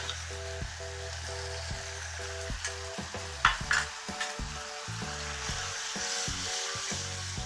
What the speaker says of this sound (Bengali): দইটা দিয়ে নাড়তে হবে।